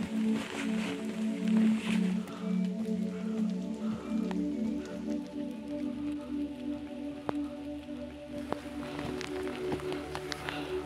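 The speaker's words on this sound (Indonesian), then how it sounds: "Hujan, Mas. Hujan lur. Harus pakai jas." Rain falls steadily on a mountain trail on Merbabu, a continuous patter with scattered sharper drips, heard over a low, steady outdoor hum and occasional movement noises.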